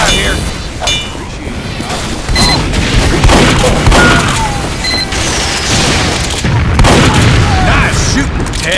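Team Fortress 2 combat on an Engineer-played match: loud, repeated booming shots and explosions burst in close succession amid clanking mechanisms, with voices calling out over the chaotic battle.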